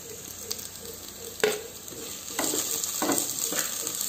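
Chopped chillies, garlic and ginger frying in a pan, a steady close sizzle with several scraping stirs of a spatula, no voices.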